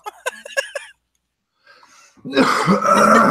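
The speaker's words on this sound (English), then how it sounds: "I got something stuck in my throat, and I'll be probably coughing a little bit more" A series of sharp, raspy coughs and throat clearing, followed by a pause, a softer rasp, then a louder, rougher throat-clearing burst close to the mic.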